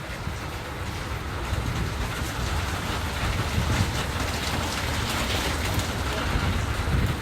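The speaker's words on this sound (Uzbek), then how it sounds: "Biz yomg'ir yog'yapti." Rain falls steadily outdoors in a continuous, fairly loud wash of hiss and patter that stays even throughout, with no voices.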